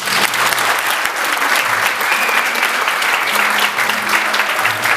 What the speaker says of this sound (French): je souhaite pour le féliciter qu'on l'applaudisse très fort.